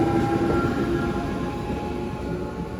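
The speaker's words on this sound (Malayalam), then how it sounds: "നല്ല സ്പീഡിൽ പോകുന്നു കേട്ടോ, മെമു എടുത്തത് നല്ല സ്പീഡിൽ പോകുന്നു." A MEMU commuter train running at speed on the Konkan line gives a steady, close rumble with rattling carriage noise and faint tonal whine, heard continuously from on board.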